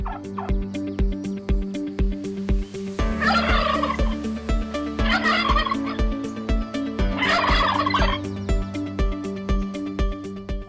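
Three bursts of loud turkey gobbling in a closed farm barn ring out over a steady low hum and repeated rhythmic mechanical thumps, with the flock calling in waves.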